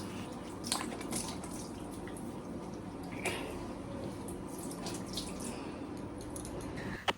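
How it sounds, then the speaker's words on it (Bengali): Cold water splashed onto a face at a sink in the morning, soft intermittent splashes and drips over a faint running-water hiss, close and fairly quiet. "মুখ চোখ ধুয়ে নিচ্ছি ঘুম থেকে উঠে একটু ঠান্ডা জল চোখে মুখে ছিটালে না একদম ফ্রেশ লাগে"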